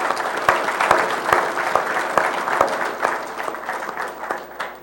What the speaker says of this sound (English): Let's give them a round of applause for tuning in too.